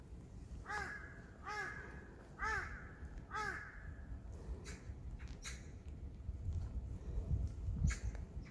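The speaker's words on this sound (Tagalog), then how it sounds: "Ingay ng ibon." A crow caws four times in an even rhythm in a backyard with red roses, clear and fairly close, followed by softer scattered bird calls and rustling.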